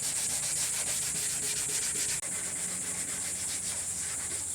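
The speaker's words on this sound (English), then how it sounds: "Using some 100 grit wet dry sandpaper." Wet sanding on a broken surfboard with 100 grit wet/dry sandpaper makes a close, steady, rhythmic rubbing scrape that continues throughout with no talking.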